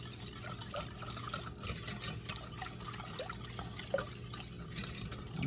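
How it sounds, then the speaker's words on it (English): Milk pours into a candied sweet potato mixture in a pot, a soft steady liquid trickle with a few gentle splashes, close up and without talk. "So we're adding the milk now."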